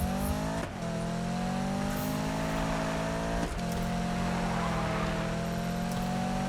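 Corvette engine in the Need for Speed 2015 racing game, a loud sustained droning rev with harmonic whine that drops briefly at gear shifts, then climbs again.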